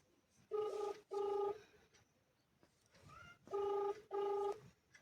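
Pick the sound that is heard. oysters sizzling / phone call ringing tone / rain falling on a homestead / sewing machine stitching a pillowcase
phone call ringing tone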